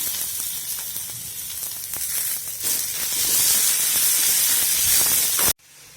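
Three spoons of cumin seeds hit hot oil in a pan for a banana flower fry. A loud, close hiss and crackle swells over several seconds, then cuts off abruptly.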